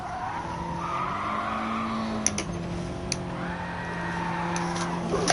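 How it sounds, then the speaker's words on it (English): In the racing game GT Sport, a car slides with its handbrake held, its tires squealing in long wavering tones over a steady engine drone, with a few sharp clicks along the way. "See how long I can hold the handbrake on for."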